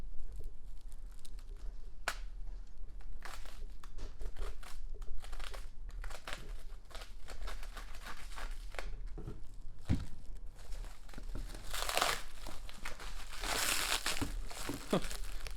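Layers of plastic packaging are peeled and torn away from a consignment item, giving continuous close crinkling and crumpling with sharp tearing bursts and louder rustling toward the end.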